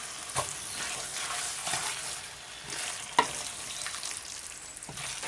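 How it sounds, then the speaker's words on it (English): Minced meat keema cooking in a tomato masala, a constant sizzle with occasional scraping and clicking from stirring, close up and without voices. "So I've added the keema in there. It will cook"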